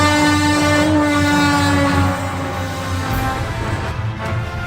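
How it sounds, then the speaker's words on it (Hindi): A loud express train horn sounds at a railway crossing, a sustained harsh blare held for about three seconds before cutting off, leaving the rumble and clatter of the passing train. "तभी ट्रेन की कर्कश हॉर्न की आवाज साफ सुनाई देती है।"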